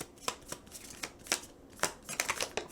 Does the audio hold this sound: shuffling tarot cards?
yes